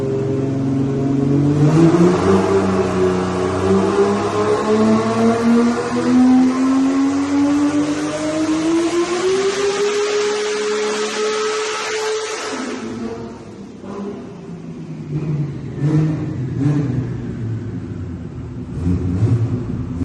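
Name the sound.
Nissan R33 GTR RB26 engine revving on all-wheel drive hub dyno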